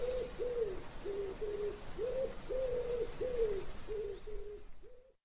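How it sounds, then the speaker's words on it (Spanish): Pigeons coo in a steady series of about ten soft, rounded calls at an even rhythm, clear and fairly close over a faint outdoor background, with no talking. "el canto de las palomas"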